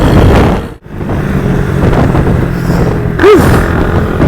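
Hero Hi Speed Infinity motorcycle cruising fast at around 110, a steady loud engine and wind roar with a brief dip near the start and a short whine toward the end.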